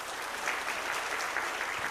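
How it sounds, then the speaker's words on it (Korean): A church congregation at a Wednesday service applauds together, a short burst of steady, even clapping from many hands in a large room. "함께 박수하겠습니다."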